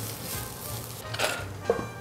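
Tempeh sizzles and fries in oil in a wide pan, a steady close crackle throughout with a couple of brief clinks or stirring scrapes near the end.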